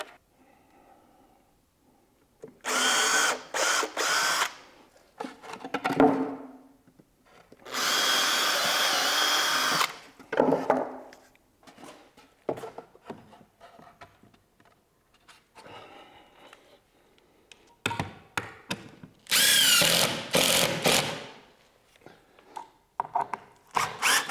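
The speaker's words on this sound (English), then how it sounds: "the first thing I'm going to do is just drill some pilot holes" Several loud bursts of a power drill whirring pilot holes into wood in a garage, spaced apart with quieter clatter and handling noises between them.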